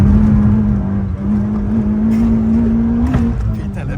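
A Peugeot 106 S16 rally car engine holds a loud, steady drone from inside the cabin while driving on a road, with a slight rise near the end and no speech over it.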